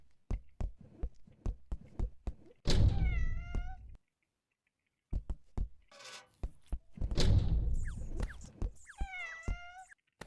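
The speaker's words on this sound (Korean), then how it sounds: "고양이" A cat meows twice in the Roblox game Deadly Delivery, each loud drawn-out cry coming after a run of sharp, evenly spaced thumping footsteps, with a short silent gap between.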